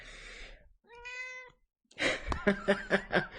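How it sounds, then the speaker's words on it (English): A Siamese cat meows indoors: a short tonal cry near the start, then a louder run of several rapid, pulsing vocalizations close by, separated by brief quiet gaps. "I don't know if you just heard my cat meowing at me."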